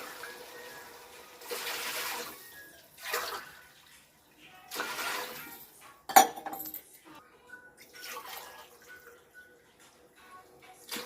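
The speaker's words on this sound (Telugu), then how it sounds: "నాలుగు గ్లాసులు నీళ్లు పోసాను." Four glasses of water go one after another into a cooking pot of khichdi. Four separate splashing pours come up close, with metallic clinks of the glass and pot and a sharp knock midway.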